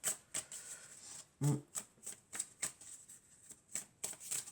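Tarot cards being shuffled and drawn, a series of soft brisk riffles and flicks at close range in an irregular rhythm, with crisp card snaps standing out and no talking over them.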